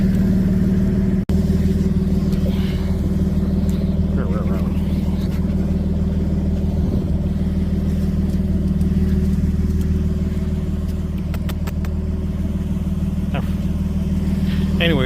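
A truck with a 4.9 turbo engine and a Flowmaster muffler holds a steady low exhaust drone at idle, loud and constant throughout, heard near the bed.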